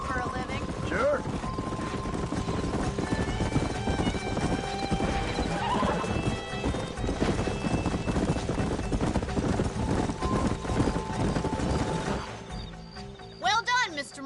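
Horses in the Western video game Red Dead Redemption, with steady clip-clop of hooves and whinnies over a dense game soundscape, moderately quiet, with people talking over it.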